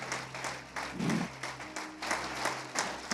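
Church congregation applauding during a service: a soft, sustained patter of many hands clapping, swelling and easing in waves, heard at a modest distance with no talk.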